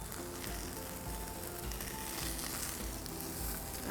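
Tilapia fillets sizzle in a very hot Teflon frying pan, giving a dense, continuous crackling hiss heard up close and steady throughout, with no voices.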